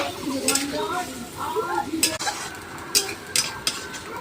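A paste of cashew, poppy seed, melon seed, tomato, ginger and cumin frying in a pan with a little water for a jackfruit dish, hissing steadily while a spoon stirs and clinks against the metal a few times, with faint talk underneath.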